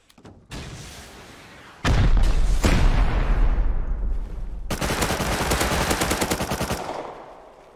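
HV rockets fired in the game Rust: a series of sharp, loud blasts and booming launches, followed by a long stretch of rapid, rhythmic automatic fire and explosive rumble.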